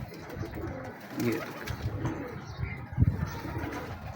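Pigeons coo softly in a loft of pure-bred flying birds, low throaty calls mixed with rustling while someone talks over them nearby.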